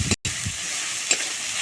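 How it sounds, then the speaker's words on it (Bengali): Onion and tomato masala with Kashmiri red chilli powder sizzles steadily while being stirred in a pan, with a brief scrape near the start and another around the middle, close and fairly loud, no voices. "একটু ভালো করে নেড়ে চেড়ে দেবো"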